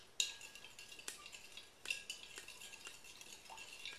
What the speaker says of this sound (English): Now I have just a spoon, and I'm going to mix it around until all the salt dissolves in the vinegar